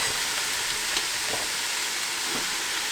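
Red cabbage and apples frying in a pan, a loud, constant close sizzle with faint stirring scrapes underneath.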